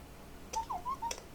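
A Bluetooth label printer gives a few soft, high electronic chirps while connecting, a quick pair of rising and falling tones followed by two short beeps, close and alone in a quiet room.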